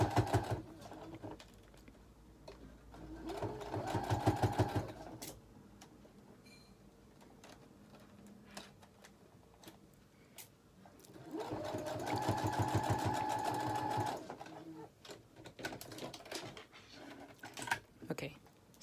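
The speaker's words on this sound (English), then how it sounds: "I'll start about right here and sew down, then I'll come back and go that way" A sewing machine stitches a fabric face mask in two long bursts of rapid, rhythmic whirring, close by, separated by quieter pauses with handling noise.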